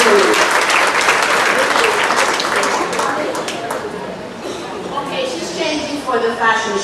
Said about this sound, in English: Let's have a round of applause for Mrs. Cumberbatch